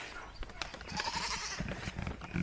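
A goat in a backyard gives short, quiet bleats among scattered thumps and faint background noise, the calls soft and somewhat distant.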